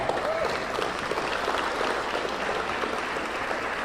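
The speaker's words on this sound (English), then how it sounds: "Give another round of applause for Mark Kyle" Audience applause at a high school sports hall of fame induction ceremony, a continuous round of clapping from a seated crowd, even and sustained throughout.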